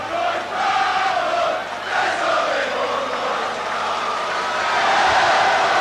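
A rugby league crowd at a Leeds versus Bradford cup match keeps up a loud, steady roar with swelling shouts and cheers, near and continuous throughout, with no voices standing out from the mass.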